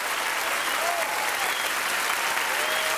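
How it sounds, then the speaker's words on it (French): A cabaret audience applauds steadily and loudly throughout, a dense, even wash of clapping with no pauses. "Vous pouvez l'applaudir à vitesse normale."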